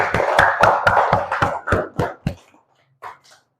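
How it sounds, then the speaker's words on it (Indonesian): A class of students claps hands together in a run of sharp, rhythmic claps that thin out and slow near the end, with a couple of faint final claps after a short pause. "Kita tepuk tangan dulu."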